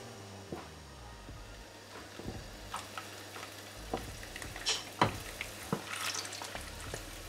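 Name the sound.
garlic frying in olive oil in a pan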